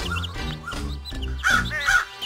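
A cartoon crow gives a string of harsh, close caws in quick bursts, the last two louder and more strained.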